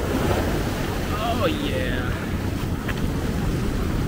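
Heavy ocean surf from Hurricane Ian roars continuously with wind buffeting the microphone, a thick, unbroken wash of noise; a person briefly speaks partway through.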